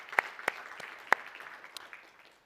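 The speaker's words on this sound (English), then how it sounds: "Another round of applause for Lerato and the team at Intellidex and EmpowerDex." An event audience applauds a presenting team, heard as a few sharp, scattered claps that quickly thin out and fade to quiet.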